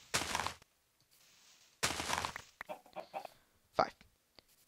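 Chickens cluck in Minecraft, short blocky clucks coming in separate bursts between bursts of game noise, fairly quiet and heard alone without talk.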